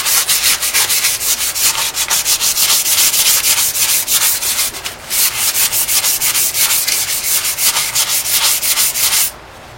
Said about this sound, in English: we're just going to sand them down. I'm using 220.